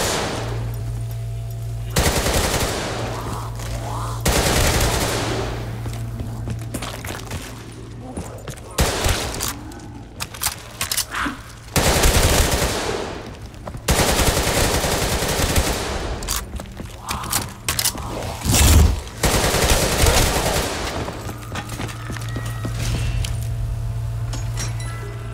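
A machine gun fires in Call of Duty Black Ops 3 zombies, loud, close bursts of rapid automatic fire repeating with short pauses between them, mixed with clinking and metallic game sounds.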